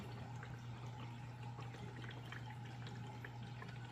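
Water pouring steadily into a Ninja Slushi frozen drink machine, filling it toward the max fill line, a continuous close splashing wash with a low steady hum underneath and no talk.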